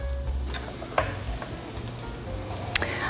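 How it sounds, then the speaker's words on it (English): Waffle cone batter bakes in a closed waffle machine, giving a steady, quiet sizzle and hiss with a few faint clicks and ticks from the appliance. "close the machine, and it's going to automatically spread that batter evenly"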